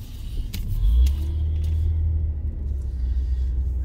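A car cruises slowly along a quiet street at night, its low engine rumble steady and close from inside the cabin, with a couple of faint clicks and no talking.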